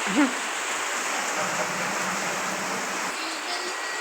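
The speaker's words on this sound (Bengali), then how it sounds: "অনেক বৃষ্টি নামতেছে" Steady broadband hiss of rain falling, dense and continuous throughout, with a brief faint voice near the start.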